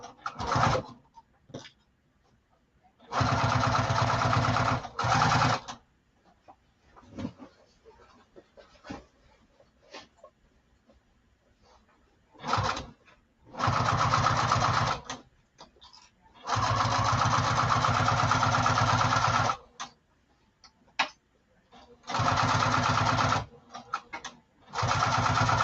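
A sewing machine stitches a quarter-inch seam on a lining with back tacks, running in several bursts of steady mechanical whirring, each a few seconds long, separated by quiet pauses with faint handling sounds.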